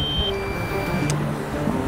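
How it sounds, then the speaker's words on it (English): A drone's low-battery warning sounds as thin, high electronic beeps: a sustained tone that steps down in pitch, heard faintly over steady outdoor background noise on a boat. "That's beeping at us because the battery's going flat."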